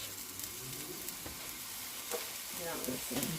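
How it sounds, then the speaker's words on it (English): Ground pork sausage dropped into a skillet for a breakfast casserole, with a quiet, faint sizzle and a few soft stirring or scraping sounds building toward the end, no talk. "let me add my sausage to my skillet"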